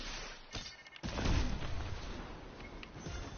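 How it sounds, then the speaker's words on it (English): Fireworks going off in a Fortnite-style shooter game, a sharp burst near one second followed by a sustained rumbling crackle and booms that fade slowly. "I have the fireworks."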